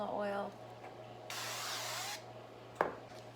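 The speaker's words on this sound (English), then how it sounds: "I'm just gonna spray my pan with a little bit more canola oil." Canola oil cooking spray hisses onto a pan in a home kitchen, one steady burst of just under a second over a low constant hum, followed by a brief clink.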